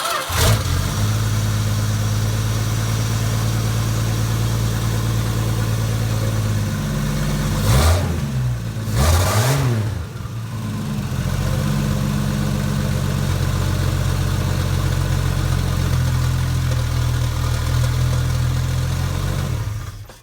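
A turbocharged slant six engine idles with a low, steady rumble, close and loud. Midway it stumbles briefly and is cranked again by the starter, then settles back into a steady idle.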